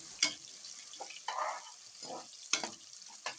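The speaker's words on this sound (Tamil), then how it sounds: "வெங்காயம் நல்லா முருகனாக ஸ்டேஜ் வர வரைக்கும் ஃப்ரை பண்ணுங்க" Onions frying in oil for a mutton biryani masala base, with scattered bursts of sizzle and occasional stirring clatter, close and moderate in level with no voices.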